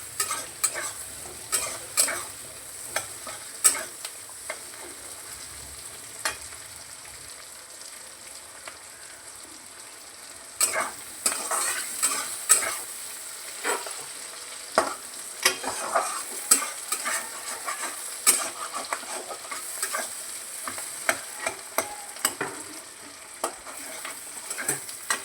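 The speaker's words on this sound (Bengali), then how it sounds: "পেঁয়াজটা একটু নেড়ে চেড়ে পেঁয়াজ পাতাগুলো দিয়ে দেবো" Onion stirred in a hot pan with spring onion greens and garlic greens, a soft steady sizzle broken by repeated scraping and clinking of a spatula, close and fairly quiet, growing busier midway.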